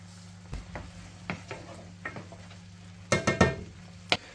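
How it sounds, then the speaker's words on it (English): Onion and garlic landing in a pan to fry, a soft low sizzle under a few scattered clinks and stirring knocks, with a brief cluster of louder scrapes near the end; no voices. "Just going to add the onion to the pan, along with the garlic."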